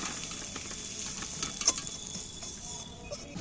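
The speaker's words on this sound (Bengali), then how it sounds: "এইবার আমি ঢেলে নিচ্ছি।" A fish roe mixture is poured into a hot pan and fries with a steady, soft sizzle throughout, broken by a few faint clicks of utensils against the pan.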